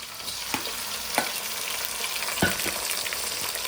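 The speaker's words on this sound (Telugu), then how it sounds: "గరిటె పెట్టి గర గర గర అని తిప్పడమే." A ladle stirs goat head curry frying in oil in a pan, with a continuous close sizzle and a few sharper scrapes of the ladle, and no voices.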